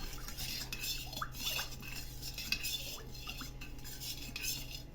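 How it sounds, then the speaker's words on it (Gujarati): A spoon stirs lemonade shikanji in a container, with a steady run of light metallic clinks and scrapes against the sides over constant low background hum. "હલાવીને મિક્સ કરી દઈશું।"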